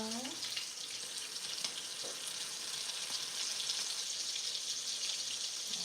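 A second batch of scallops sizzles in a hot pan with a bright, steady hiss, while a short utensil clatter comes near the start and a few small knocks follow.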